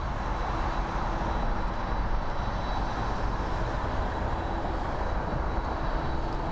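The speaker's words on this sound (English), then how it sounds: "747-430 headed to Bangalore. 21 years old. Second attempt for takeoff." A 21-year-old Lufthansa Boeing 747-430 on its takeoff run makes a steady, broad jet roar with a faint high whine, fairly distant and constant throughout.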